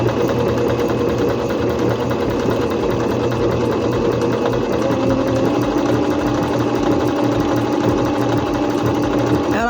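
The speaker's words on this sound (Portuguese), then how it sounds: "Eu vou fazer uma costura reta flexível." Singer C5605 electronic sewing machine running a flexible straight stitch that steps forward and back, giving a loud, steady mechanical whir with rapid needle chatter, close and unbroken throughout.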